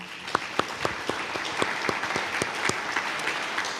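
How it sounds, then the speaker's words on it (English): Audience applause at the close of a talk on Portuguese cod fishing in the Northwest Atlantic, a steady wash of many hands clapping with sharp individual claps standing out, fairly close and sustained throughout. "Round of applause, please."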